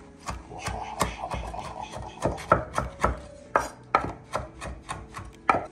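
Knife chopping on a board while cooking steak and potatoes over a fire: a steady run of sharp, close knocks, about two to three per second, each with a bright woody snap, with no talk over them.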